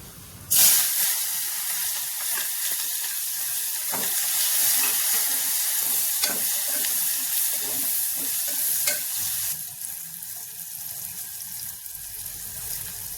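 Onions fry in a pan for an Andhra-style dried fish, brinjal and tomato curry, hitting the hot oil with a loud hiss that settles into a steady, close sizzle with occasional stirring clinks.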